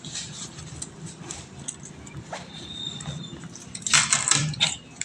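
Coins clink and jingle as change is handed over at a parcel pickup counter: a few scattered metallic taps, then a brighter, louder cluster of rattling coins near the end, with faint background noise.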